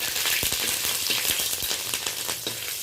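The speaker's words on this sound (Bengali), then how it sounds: "ফোড়নটা ভালো মতো ফুটে গেছে, ফোড়ন থেকে একটা ভালো গন্ধও চলে যাচ্ছে।" Panch phoron spices and halved green chillies frying in hot oil, a dense continuous sizzle with small popping crackles, close and steady.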